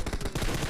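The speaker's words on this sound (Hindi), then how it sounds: "बाद में जब दिखता है तब वो ओपन से फायरिंग करते हैं" Rapid automatic gunfire in PUBG Mobile squad gameplay, a quick string of about eight close, loud shots in a steady rhythm, with a brief gap partway through.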